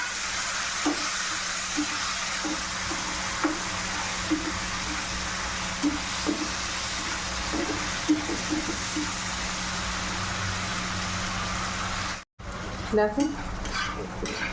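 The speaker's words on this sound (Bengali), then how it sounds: "এবার ওই তেলে আমি মশলাটা ভেজে নেব" Spice masala frying in oil for stuffed eggplant, a steady close sizzle with repeated clinks and scrapes of a stirring utensil against the pan. A short pause comes before the sizzle resumes, and a voice speaks briefly.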